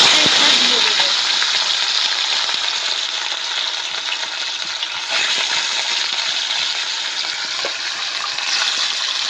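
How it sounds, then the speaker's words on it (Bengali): Pieces of katla fish fry in hot oil in a wok with a loud, close sizzle that bursts up at the start and then settles into a steady crackle, with faint clinks and no talking. "আমি মাছগুলো ভেজে নেব। একটা একটা দিয়ে দেব।"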